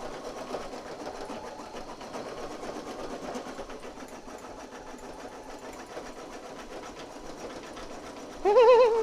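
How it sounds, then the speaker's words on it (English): Embroidery machine stitching a design for a straw beach clip, a steady rapid mechanical chatter that runs throughout at moderate level, with a brief louder burst near the end. "So when the machine is not stitching, I'll show you what it does."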